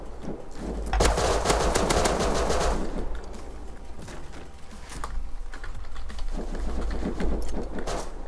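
Rapid gunfire from a P250 pistol and other weapons in the survival video game Rust, as dense bursts of repeated shots close and loud, with short pauses between volleys.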